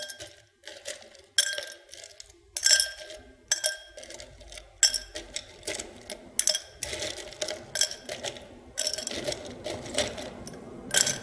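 Ice cubes are dropped one after another into a glass while a Cuba Libre is built, bright close clinks and knocks in an irregular series with small rattling settles between them, and no voice.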